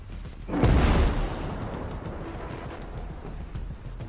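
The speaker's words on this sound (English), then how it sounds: "That's another mortar." A mortar round explodes in a loot shooter video game, one heavy booming blast about half a second in that rolls off into a long rumbling tail with scattered crackling debris.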